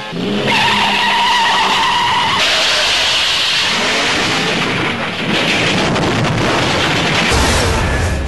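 Car chase from the James Bond film Dr. No: engines roar and tires squeal and skid in a loud, busy stretch of racing vehicles, with no voices.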